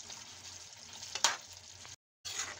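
Chicken karahi with cream and Kashmiri red chilli being stirred in a pan, a steady low sizzle with one sharp scrape midway and a brief dropout to silence before the bubbling resumes.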